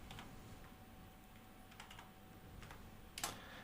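Light tapping on a computer keyboard, faint and close, a few scattered key presses over a quiet room hum, with one brief sharper click near the end.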